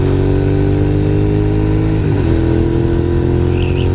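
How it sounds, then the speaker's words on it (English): A motorcycle labors up a hill on Bald Peak Road, its engine droning loud and steady under strain with a brief dip in pitch as the load shifts, close and continuous with no talk. "And my bike is working hard to get up this hill."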